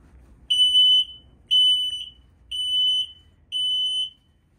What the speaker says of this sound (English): there's a button right here that you push. And it's going to perform its test.